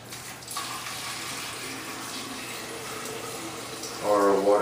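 Reverse-osmosis water running into a Fluval SPEC 3 aquarium tank: a steady, close pouring wash that continues throughout, growing louder and fuller near the end.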